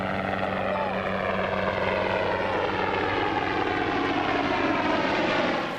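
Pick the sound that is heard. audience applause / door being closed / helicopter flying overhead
helicopter flying overhead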